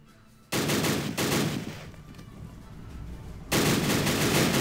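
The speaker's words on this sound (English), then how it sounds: "Bren gun is responding to some guys approaching, but that machine gun is right on top of them" Bursts of Bren gun and machine gun fire in the WW1 strategy game Battle Academy, with loud sustained rattling volleys that start abruptly, ease off, then return at full strength.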